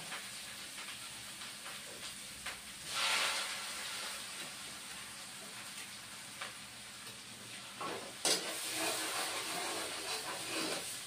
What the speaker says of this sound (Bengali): কুচানো পেঁয়াজ দিলাম, আঁচটা কমিয়ে দিলাম